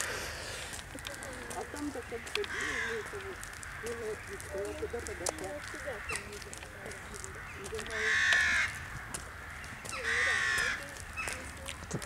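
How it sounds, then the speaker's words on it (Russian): Crows caw repeatedly in loud bursts outdoors around a castle grounds, standing out over murmuring voices and background ambience. "Что ворон много."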